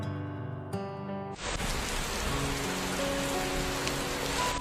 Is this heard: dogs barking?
no